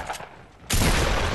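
Gunfire in the video game Fortnite, Battle Royale mode, a quiet lead-in followed by a sudden loud burst of shots that keeps up for the rest of a very short moment.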